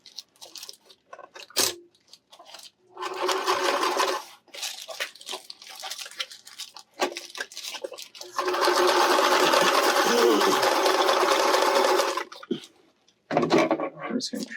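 Sewing machine stitching fabric for RV reflector shades, running in several bursts of rapid stitching, the longest lasting about four seconds, with short pauses and handling noises between.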